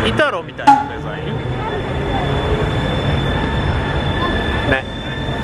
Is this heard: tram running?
yes